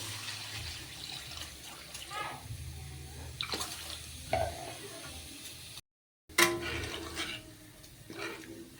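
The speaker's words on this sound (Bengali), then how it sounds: "এখন পরিমাণ মতো ঝোল দিয়ে দেব" Broth poured into a hot pot of spices for green jackfruit kofta curry, splashing against a low sizzle, with stirring clatter and a brief gap of silence midway.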